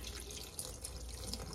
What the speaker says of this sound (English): I'm washing mine in cold water, because cold water tends to bring out the starch more